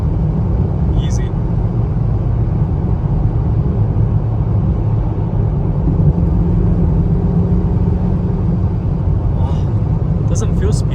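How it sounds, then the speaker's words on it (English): A Ferrari Roma being driven, its engine and road rumble a steady, loud low drone filling the cabin throughout, with no notable rev changes and a faint click or two near the end. "Driving the Ferrari Roma."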